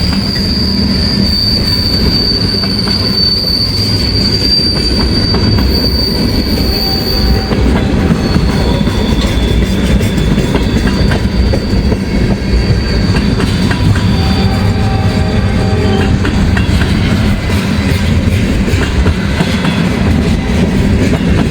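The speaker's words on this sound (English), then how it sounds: "Got a nice mixed manifest here for CSX." A CSX mixed manifest freight train rolls past in Ohio, a loud continuous rumble of wagons with high wheel squeals and rhythmic clickety-clack throughout, close and steady, with no talking.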